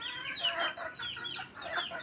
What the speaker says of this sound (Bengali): এই যে মুরগিগুলি দেখতে পাচ্ছেন, এই মুরগির মা হচ্ছে এই মুরগি।